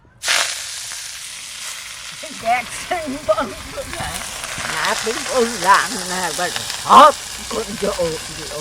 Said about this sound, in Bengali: পাতিশাকটা আগে ভাজবো কড়াই গরম হয়ে গেছে একটু দিয়ে দিচ্ছি সর্ষের তেল